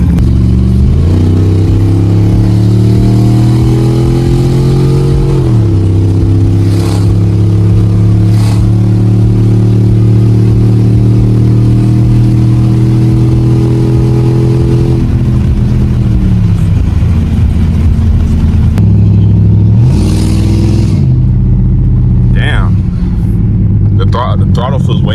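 A 2006 Dodge Charger Daytona with a pre-Eagle HEMI V8, given a Diablo tune, roars loudly through repeated acceleration pulls, the engine note rising through each gear and dropping at every shift, heard from inside the cabin.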